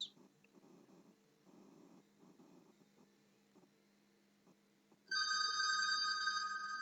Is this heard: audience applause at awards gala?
no